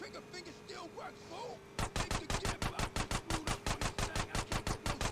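Rapid automatic gunfire in the video game GTA San Andreas Definitive Edition, a steady rhythmic stream of about twenty shots starting after a brief stretch of muffled voices and game ambience.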